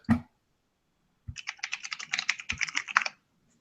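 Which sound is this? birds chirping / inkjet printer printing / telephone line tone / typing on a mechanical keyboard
typing on a mechanical keyboard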